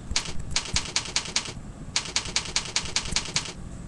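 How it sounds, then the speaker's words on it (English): Rapid keystrokes on a computer keyboard come in two bursts of quick clicking with a short pause between them, close and crisp with no talk. "you can just type directly into that box"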